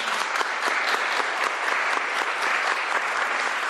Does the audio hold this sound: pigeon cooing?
no